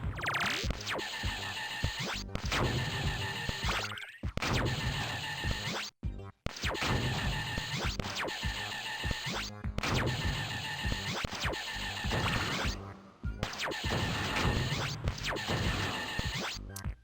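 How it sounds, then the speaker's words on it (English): Harsh, buzzing electronic zaps repeat in long bursts separated by brief gaps, a loud, grating 1950s-style sci-fi alien weapon sound in a shoot-'em-up video game. "that's one of those classic 50s sci-fi noises"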